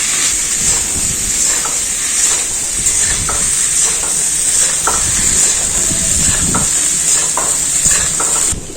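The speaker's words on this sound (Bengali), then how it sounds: "সবজিগুলো সব ভাজা হয়ে গেল" Potato, cauliflower and beans frying together in a pan, a loud close sizzle running throughout with repeated rhythmic stirring scrapes and clatters, no one speaking.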